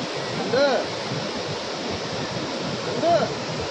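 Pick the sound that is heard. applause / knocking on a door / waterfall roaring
waterfall roaring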